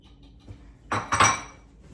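A spoon mixes banana pancake batter in a bowl with a few soft taps, then two louder clinking strikes against the bowl close by, with no talk.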